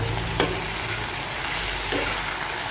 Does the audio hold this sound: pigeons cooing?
no